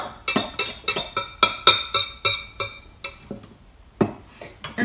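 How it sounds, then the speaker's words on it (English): A knife mixing aubergine salad in a bowl gives steady, fairly loud clinks and scrapes in a quick rhythm that slows and thins out toward the end. No one speaks. "Give it a good mix with like a knife."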